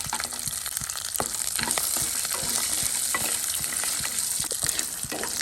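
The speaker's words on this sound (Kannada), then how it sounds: "ಗೋಲ್ಡನ್ ಕಲರ್ ಬರೋವರೆಗೆ ಇದನ್ನು ಫ್ರೈ ಮಾಡ್ಕೊಳ್ಳಿ" Green chillies, peanuts and cashews frying in hot oil, a continuous close sizzle broken by frequent rhythmic clicks and scrapes of a spoon stirring the pan.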